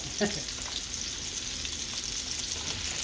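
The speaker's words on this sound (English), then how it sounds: "First thing I would put is the white onion and the mushroom." White onion and mushroom fry in oil in a wok for a beef and vegetable stir fry, giving a steady close sizzle with a brief clatter near the start.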